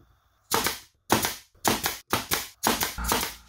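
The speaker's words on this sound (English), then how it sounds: "I'm going to use the wood glue and the nail gun to put these on" Nail gun driving fasteners into wooden parts for a rustic pumpkin wagon craft, five sharp close bangs at roughly half-second intervals, each with a short rattling tail, no voices.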